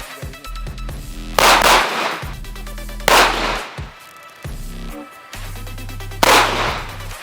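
Three loud, evenly spaced pistol shots from a Salient Arms International handgun at a shooting range, each a sharp crack with a ringing tail over steady low background noise.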